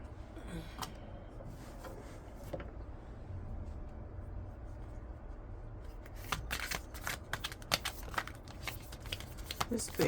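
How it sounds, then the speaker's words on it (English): Tarot cards with a finish that makes them hard to shuffle are shuffled by hand in a run of quick riffling snaps and slides, quiet at first and then denser and sharper toward the end. "The finish on these cards make them difficult to shuffle."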